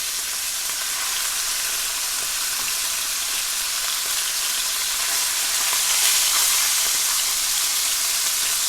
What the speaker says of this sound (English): So I'm going to go ahead and add half my pork.